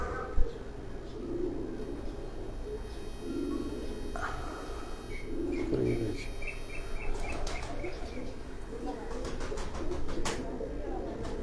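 Pigeons at a loft coo softly in low murmurs amid a busy outdoor background. Scattered clicks and a short sharp knock come early, and people talk faintly nearby.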